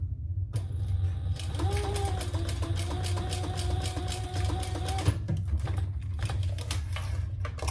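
A sewing machine stitching another row on an adjustable crossbody strap with variegated Tex 80 thread, a fast continuous mechanical chatter with a whining motor tone for several seconds, then a few slower clicks as it stops, close and steady.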